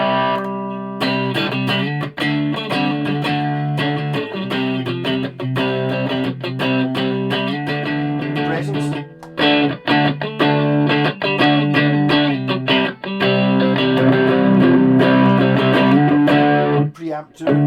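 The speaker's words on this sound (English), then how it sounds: "It's adding distortion." Heavily distorted electric guitar, gain-boosted through an amp preamp, playing loud, sustained chords with gritty saturation, steady throughout with a brief break partway, no voices.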